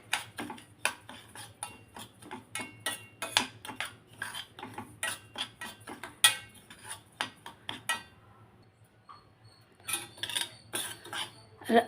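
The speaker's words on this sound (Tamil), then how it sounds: "லைட்டாக ஒரு பொன்னிறம் வரும் பாருங்களா அது வரைக்கும் வறுத்துக்குங்க" Semolina dry-roasts in a pan for sweet rava kolukattai while a spoon scrapes and clinks against the metal in quick, sharp strokes. After a brief lull the stirring picks up again, close by with no voices.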